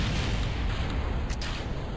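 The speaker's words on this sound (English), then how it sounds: "I don't know why there were explosions." Rumbling blasts and explosions from a spacecraft in Kerbal Space Program during a Mars mission, a dense low roar running steadily through the whole moment with a brief sharper burst near the middle.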